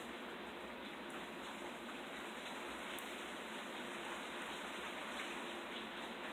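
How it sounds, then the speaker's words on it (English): Steady rain falls in a dense, even wash of noise, constant and moderately loud for the whole stretch, with no voices over it. "I don't know if you guys can hear, but it is raining."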